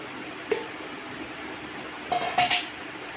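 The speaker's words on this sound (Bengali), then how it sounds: "এর জন্য মাংসগুলো আমি প্রেসার কুকারের ভিতর দিয়ে দিচ্ছি" Beef pieces being placed into a metal pressure cooker in a home kitchen. A single soft clink comes first, then a short cluster of metallic taps and scrapes, all faint over a quiet background hum.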